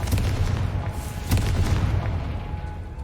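Confringo blasting spell detonating in the Hogwarts Legacy video game, a loud deep boom with a crackling burst rolling on for a few seconds, a second heavy thud following midway.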